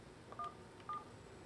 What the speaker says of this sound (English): From your phone, you're going to dial *17.